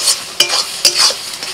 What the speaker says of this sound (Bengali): নাড়াচাড়া করতে করতে এই জলটাকে শুকিয়ে নিতে হবে, আর একটু জোরে জাল দিতে হবে।